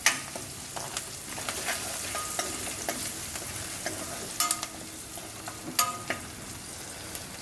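Mustard-seed tempering frying and crackling in hot oil while being stirred with a spoon, steady sizzle with scraping clicks and a few louder pops, close and alone with no talk.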